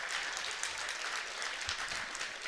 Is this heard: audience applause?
yes